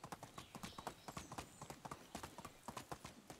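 Horse hooves clip-clop in a steady, fast rhythm of sharp repeated strikes while a horse is ridden in the medieval survival game Medieval Dynasty, loud and close throughout.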